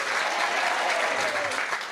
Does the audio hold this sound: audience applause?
yes